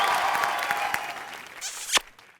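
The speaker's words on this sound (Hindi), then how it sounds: "जोरदार तालियां हो जाए भारती और करण के लिए।" Studio audience clapping for Bharti and Karan on a Hindi comedy show, a short, fairly soft burst of applause that fades out with a sharp single clack near the end.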